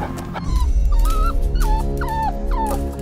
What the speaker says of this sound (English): Stop that damn dog!